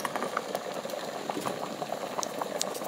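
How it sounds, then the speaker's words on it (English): A pot of rice water at a steady boil, a continuous close bubbling and popping with small irregular blips, no voices. "Bring to a boil."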